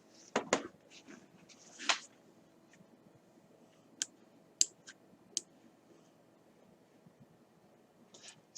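Soft mouse clicks and light desk handling while creating a property in Adobe Dynamic Tag Management, a few sharp isolated ticks spread across quiet room tone.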